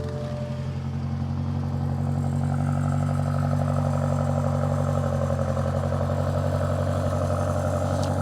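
BMW X5M/X6M V8 engine in its quietest exhaust mode, rising into a steady raspy rev with a smooth sustained drone, moderately loud and alone.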